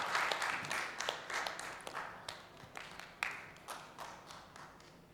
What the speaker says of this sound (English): So you can give a very good claps for the chairperson.